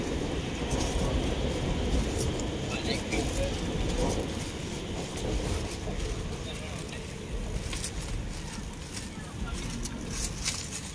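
An elevated MRT train rumbles overhead, a steady loud low roar with rail noise lasting throughout, while people talk nearby beneath it.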